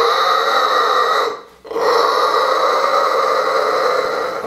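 A man imitating a crying calf with his voice, a long, loud, strained bawl that breaks off with a short gasp and then resumes, carrying on for several seconds.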